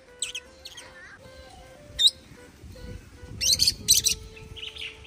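Pet birds perched in a tree give several short, high chirps and tweets in scattered bursts, some close and clear, over a quiet outdoor background.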